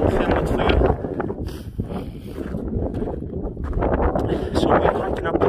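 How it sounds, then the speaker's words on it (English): Strong wind buffets the microphone on a hike up the crater of the Northern Eldborg volcano in April, with loud, gusty roaring and rumbling that swells and eases throughout. "Lots of wind today"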